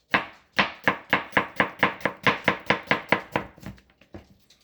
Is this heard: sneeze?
no